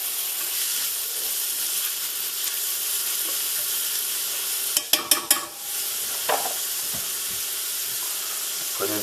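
Scrambled eggs with lobster stirred in a hot pan give a steady sizzling hiss, broken by a quick run of sharp scrapes and clinks from the utensil against the pan.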